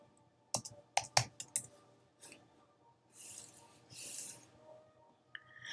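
Someone types a name on a computer keyboard: a quick cluster of crisp, close key clicks, then quieter rustling and a last faint click.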